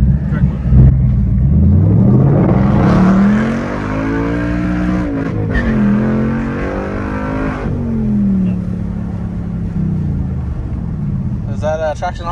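A Ford Mustang Bullitt roars through a hard full-throttle pull on track, its engine note climbing and shifting loudly in near, rising sweeps, with people talking over it.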